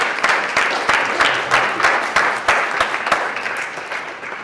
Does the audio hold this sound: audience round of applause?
yes